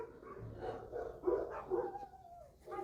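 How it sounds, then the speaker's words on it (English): A neighbor's dog barks in a residential neighborhood, set off by another dog walking past, with several moderately loud, irregular barks and yips over faint background noise. "look at the neighbor's dog is barking now too"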